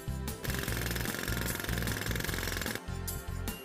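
A jackhammer at a construction site pounds in rapid, loud bursts with brief pauses between them, harsh metallic clatter close by and alone.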